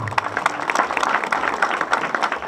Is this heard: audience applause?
yes